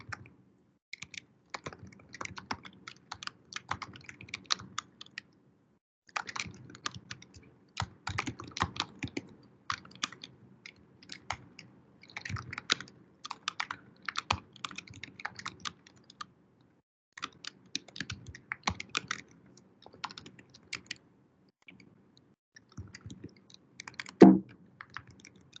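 Typing on a computer keyboard while a program is written, with bursts of quick key clicks separated by short pauses and ending in one louder tap, fairly close and with no talking.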